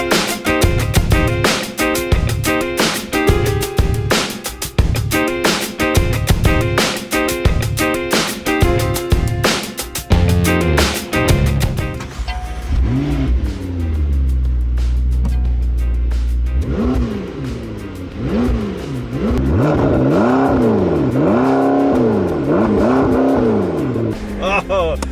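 A 2015 McLaren 650S with a 3.8-liter twin-turbo V8 roars through rapid, choppy revs, then settles into a lower drone with rising and falling engine sweeps, loud and close, with people talking over it.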